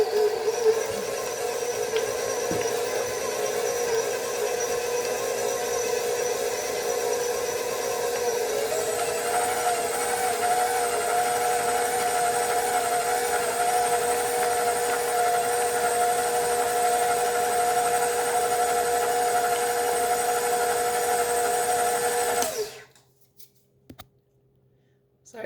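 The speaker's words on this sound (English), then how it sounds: "I've just blended it until it's fully blended" Electric mixer steadily whirring through butter and Crisco for buttercream frosting, a continuous loud motor hum that shifts pitch partway through, then cuts off abruptly near the end.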